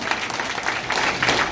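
Applause rises from an audience at a political meeting in Motihari, East Champaran, a steady patter of many hands clapping together for a short stretch, moderately loud and without speech over it.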